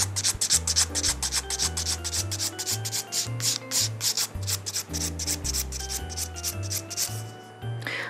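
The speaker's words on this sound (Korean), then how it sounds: "마찬가지로 앞에 두께 체크하시면서 세로 파일링으로 두께 줄이겠습니다." An acrylic nail is filed down with vertical strokes to thin it, giving a steady, rhythmic rasping close up, repeated many times without pause over soft tonal background music.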